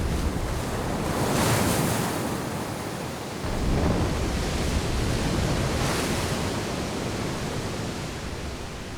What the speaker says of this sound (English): the zone of shallow water above the coral shelf, which is constantly churned and oxygenated by the waves